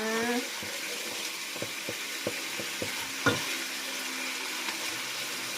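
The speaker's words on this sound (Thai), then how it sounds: "เคี่ยวกะทิก่อนนะ" Coconut milk simmering in a pan for panang pork curry, a soft steady bubbling sizzle with a series of light utensil taps and a brief voice at the start.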